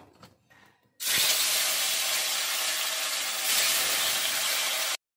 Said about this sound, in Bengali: আমি কড়াইতে তেল গরম আছে